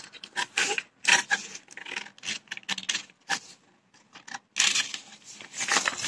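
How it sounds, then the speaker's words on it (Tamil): Scissors cut through cloth for hand gloves in short bursts of snipping and rasping fabric, close and fairly loud, separated by brief pauses. "இதை அப்படியே வெட்டிட்டே வந்துருங்க."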